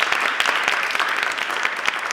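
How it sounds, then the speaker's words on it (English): An audience at an anniversary event in Washington D.C. gives a round of applause, dense, steady clapping from many hands, loud and close, filling the whole moment. "Please, round of applause for you."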